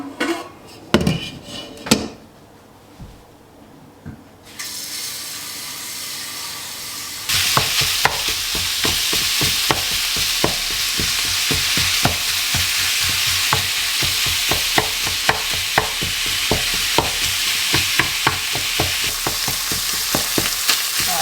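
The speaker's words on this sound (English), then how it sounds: "I'm just going to start browning that, and once it's browned we'll start making up the sauce." Pork mince browns in a hot pan, starting with a few clatters before a loud, steady sizzle builds, punctuated by rhythmic scraping taps of a utensil stirring the meat.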